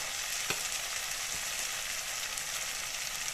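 Ground spices, coriander powder among them, sizzle in hot oil in a home kitchen while bhindi with besan cooks, a steady soft crackle with a couple of faint stirring knocks and no talk.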